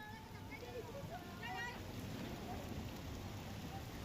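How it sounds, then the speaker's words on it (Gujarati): Heavy downpour over flooded streets in Surat, a dense steady hiss of rain heard faintly under a voice talking. "તો સુરતમાં ધોધમાર વરસાદ ખાબક્યો।"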